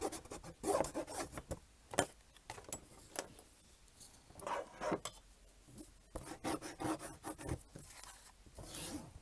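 Paper craft piece being burnished by hand, quiet close rubbing strokes in irregular bursts of dry, rasping friction with short pauses between, no talking.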